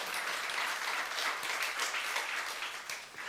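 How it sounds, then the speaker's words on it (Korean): A church congregation at a youth worship service claps together, a full, sustained burst of many hands that stays loud and fades slightly at the end. "박수며 하나님께 영광 돌리시기 바랍니다."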